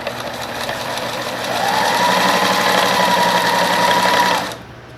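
A sewing machine runs steadily through fabric while a plastic-pocket hygiene pouch is sewn, with a fast, even mechanical whir that climbs slightly in pace midway, then stops abruptly.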